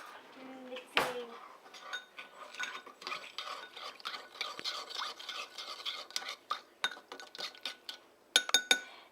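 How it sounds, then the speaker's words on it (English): Utensils stir and scrape food around in a dish, with continuous clinks and taps against the bowl and a sharper burst of clatter near the end, close and fairly quiet. "And then gotta mix it around."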